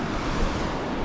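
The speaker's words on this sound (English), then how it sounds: "Oh my lord, look at the waves." Caribbean sea waves wash onto a private beach at Port Antonio, Jamaica, as a loud, continuous surf roar mixed with wind buffeting the microphone, with no voices heard.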